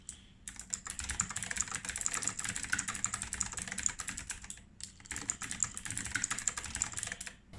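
Quick, light keystrokes on a Dygma Raise mechanical keyboard with Kailh Speed Gold switches in two long runs with short breaks, soft and close with a bright clatter.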